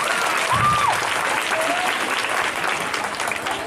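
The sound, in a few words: applause for a correct quiz answer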